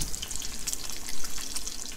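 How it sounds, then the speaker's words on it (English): Bacon sizzles in a pan on a propane camp stove outdoors in the desert, a steady close hiss with a crackling spatter, with no talking. "the sound of propane out in the wilderness and also bacon cooking is pretty cool"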